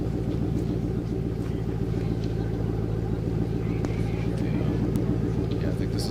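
A Ford Mustang race car at Pikes Peak roars with a steady, loud engine drone throughout, a continuous rumbling note with no breaks.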